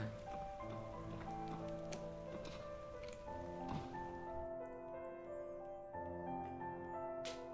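Steady rain patters throughout a cozy scene in the video game Night in the Woods, a continuous soft wash under layered ambient music tones.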